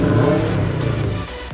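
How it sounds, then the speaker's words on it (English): A Subaru STI with an aftermarket exhaust revs up, a burbly, throaty engine note rising then easing off over about a second and a half, close and loud with no talk. "how good this engine sounds when"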